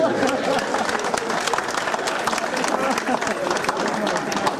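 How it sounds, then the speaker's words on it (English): A crowd at an MC's show breaks into sustained applause, many hands clapping in a thick, even roar with cheering and crowd chatter underneath, close and loud for the whole stretch. "Please, a round of applause for him again."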